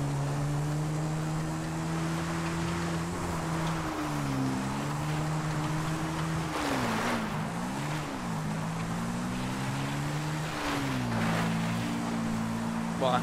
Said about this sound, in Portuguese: a moto não tá nem aguentando mais subir